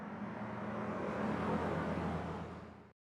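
A layered car pass-by effect with phasing applied swells from a steady whooshing rumble to a peak midway, then fades and cuts off abruptly, sounding like a vehicle pushed toward a synthetic, sci-fi texture.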